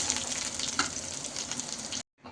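Ragi ponganalu sizzle and crackle steadily in a hot pan, a dense close frying hiss that cuts off abruptly near the end.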